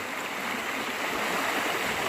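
Tham Phra waterfall in Bueng Kan province, Thailand, a loud continuous broadband rush of falling water, close and steady throughout with no voices.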